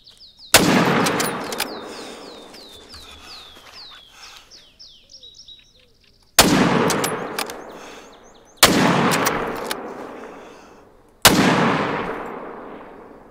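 Several loud, sharp hunting rifle shots in theHunter: Call of the Wild, one near the start and three more later, each followed by a long rolling echo fading across an outdoor setting where birds chirp faintly between shots.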